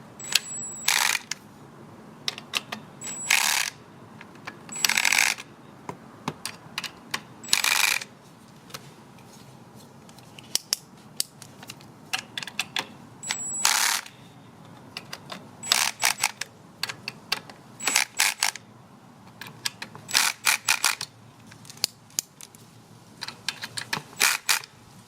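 Sharp clicking from a torque wrench tightening a Givi sidestand foot on a BMW R1200RT motorcycle: scattered close ticks and short ratcheting bursts in irregular runs over a quiet background.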